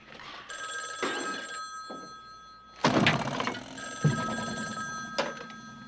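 A telephone rings in a few bright, electronic trills, close and fairly loud, mixed with dull thunks and knocks in a quiet room.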